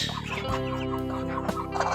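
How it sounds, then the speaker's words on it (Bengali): A broody hen sitting on a clutch of pheasant eggs gives a close, steady, low clucking growl that runs without a break through a short stretch. "দেখছেন একটা মুরগি কুচে বসে আছে"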